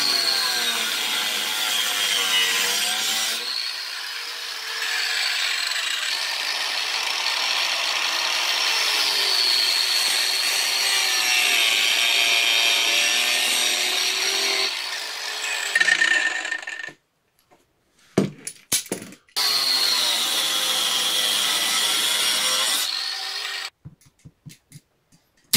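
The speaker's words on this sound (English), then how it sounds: "So let me grind these off real quick and I'll be able to get at it on this side and get everything torn apart." Power grinder cutting fasteners off a 5th wheel trailer during demolition, a loud, continuous whining grind for about seventeen seconds, then a few short bursts before it runs steadily again and cuts off.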